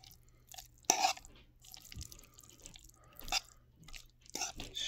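Pasta is chewed up close in a quiet setting, with wet, squishy mouth sounds and a few louder smacks spread across the stretch.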